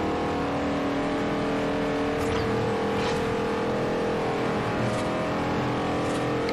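A car engine in Forza Horizon holds a steady loud drone as the car speeds along, with faint whooshes of passing traffic and no talking over it.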